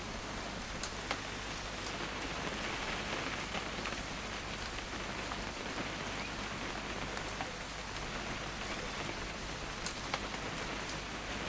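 Continuous, even rainfall in the video game What Remains of Edith Finch, a dense hiss of drops on surfaces at a moderate, unchanging level with no talking.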